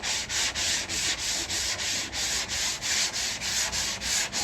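Body filler on a Renault 5 Alpine Turbo under restoration being hand-sanded with a sanding block: steady rhythmic rasping strokes, about three per second, close and even, with no talk.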